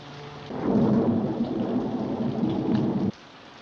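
Heavy rain pours steadily outside an apartment window in a scene from the 1954 film Rear Window, a dense hiss with low thundery rumble that starts abruptly and cuts off after about two and a half seconds.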